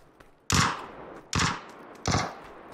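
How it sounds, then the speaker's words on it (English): A decoy grenade in PUBG fakes gunfire, producing three loud, separate bursts like shots, each cracking sharply and then fading, spaced under a second apart against a quiet background. "That's a decoy grenade."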